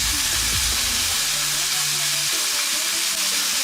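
Pork chops frying in a pan, giving a loud, steady, dense sizzle that carries on without a break, with low kitchen hum underneath.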